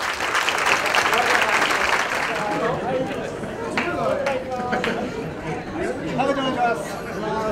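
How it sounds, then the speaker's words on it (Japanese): Steady audience applause fills the hall at an amateur kickboxing exhibition at the 2015 JAPAN CUP, loud and continuous throughout, with a voice speaking over the crowd noise. "それでは素晴らしいファイトを見せてくれました両選手に今一度全体の拍手をお願いします。"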